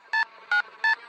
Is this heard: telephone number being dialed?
yes